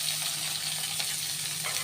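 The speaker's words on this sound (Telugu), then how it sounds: "చక్కగా మనం దోరగా వేయించుకుందామండి." Sliced onion and green chilli frying in oil with mustard seeds and cumin, a brief steady sizzle heard up close and alone.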